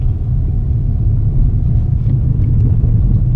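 A Honda Civic driving off-road makes a loud, steady low engine rumble with rough road noise underneath, continuous and close, with no talking.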